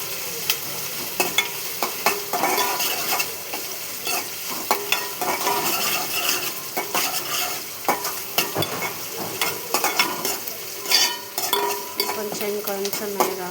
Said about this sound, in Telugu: బాగా వేగాలి. వేగినాక పూలు పెట్టుకుంటే తొందరగా వేగిస్తుంది.